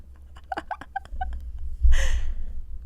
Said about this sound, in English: That was the cat. There is a cat in here.